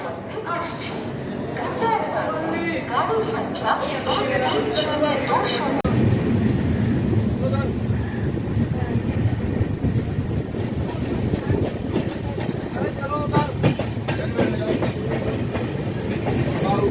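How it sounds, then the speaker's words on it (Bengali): A passenger train pulls out of Bardhaman Junction in India, its steady rolling rumble and rhythmic clickety-clack filling the scene throughout, with voices talking over it. "ছেড়ে দিল বর্ধমান জংশন"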